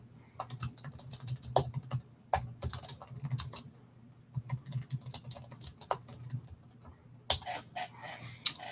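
Someone types a message on a computer keyboard, close up, in quick bursts of clicking keystrokes separated by short pauses, with a faint low hum underneath and no talking.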